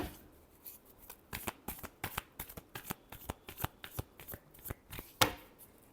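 A deck of tarot cards riffled and shuffled by hand, a rapid series of crisp slapping bursts in quick irregular rhythm, close and fairly quiet, ending in one sharper snap.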